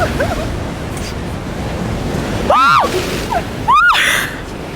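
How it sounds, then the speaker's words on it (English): Ocean waves surge and crash onto a beach during a photoshoot, a loud steady roar of surf with gusts of wind buffeting the microphone and brief sharp whistling chirps on top. "the waves are swooping in"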